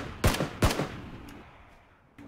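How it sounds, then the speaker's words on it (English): Gunfire in PlayerUnknown's Battlegrounds, two sharp shots in quick succession followed by a fading tail and a fainter shot at the end. "He's taking shots at me."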